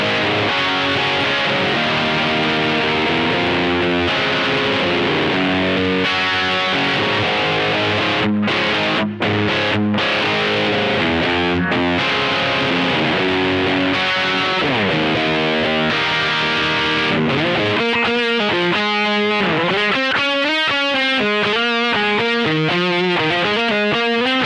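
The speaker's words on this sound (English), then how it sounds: "Super high gain pedal. It sounds like this with a humbucker in the bridge." Electric guitar with a bridge humbucker played through a Nux Plexi Crunch high-gain pedal, the gain set around a quarter: a loud, continuous saturated crunch of chords and riffs with brief gaps, ending in busier lead runs.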